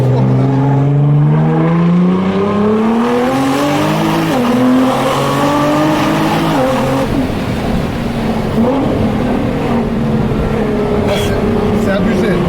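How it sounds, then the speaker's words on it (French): A 1,500-horsepower Nissan GT-R roars loud and close, its engine climbing through rising revs before a rough, broadband scrape of the carbon underbody and tire noise takes over in the second half. "Ça a frotté un peu. C'est le carbone qui a frotté en dessous."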